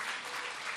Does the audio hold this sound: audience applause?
yes